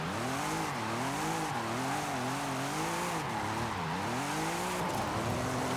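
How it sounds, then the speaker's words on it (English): A tuned car in the racing video game Forza Horizon 5 drones with a steady, loud engine note that rises and dips as it revs, accompanied by continuous tyre noise and no talking. "God, this is the worst sounding car I've ever heard in my entire life."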